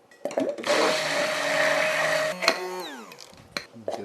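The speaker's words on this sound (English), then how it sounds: "Get our immersion blender ready, pour our oil in, let it rip." An immersion blender whirs loudly as it blends canola oil, Dijon mustard and egg into homemade mayonnaise, a steady motor drone that cuts off and is followed by a few clinks and scrapes.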